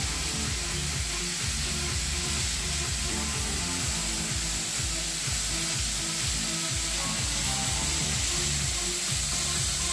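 King prawns sizzle steadily in a hot pan while being turned, a continuous close frying hiss with low rhythmic clatter from stirring throughout, no voices.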